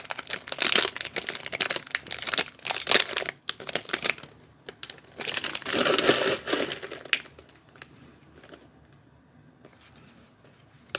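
Wax packs of 1992 Major League picture cards being torn open, with loud close crinkling and crumpling of the wrappers in bursts, then quieter handling of cards.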